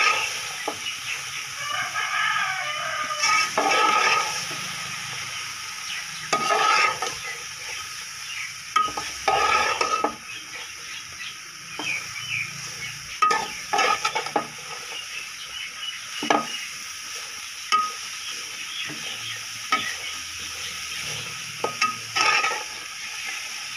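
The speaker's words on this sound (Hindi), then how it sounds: "अब इसको बाकी मसाला जार के साथ अच्छे तरीके से मिक्स कर लें" Chicken filling with masala is stirred in a pan, producing repeated bursts of spoon scraping and clatter over a low sizzle, with quiet pauses between the bursts.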